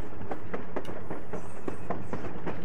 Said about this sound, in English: So that was the train.